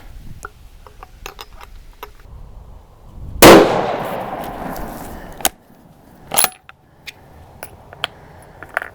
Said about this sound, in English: we're going to shoot another 5-shot group, see if we have anything different